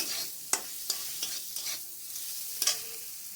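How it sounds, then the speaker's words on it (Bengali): Prawns fried with coconut and spices in a Goan-style dish are stirred in a pan, a steady sizzle beneath several distinct scraping strokes of the spatula, close and moderately loud, with no talking. "এবার ভালো করে নেড়ে দেবো"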